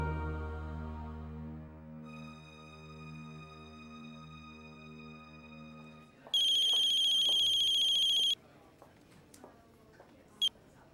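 A telephone line rings during a call to a family doctor in a Tamil TV drama serial. A long steady tone comes first, then a louder two-second electronic ring, followed by faint clicks.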